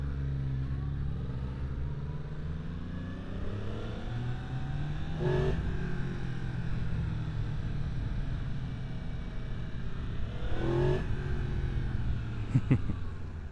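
2023 Yamaha MT-10 with a freshly flashed ECU riding on the road, its engine droning steadily with rising revs, two brief gear-change blips along the way and a sharp pop near the end.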